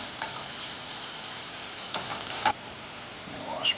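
Meat sears in a hot pan while tongs press it down for an even crust, giving a steady soft sizzle with a few sharp clicks and taps of the tongs against the pan.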